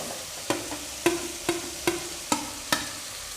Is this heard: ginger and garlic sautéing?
yes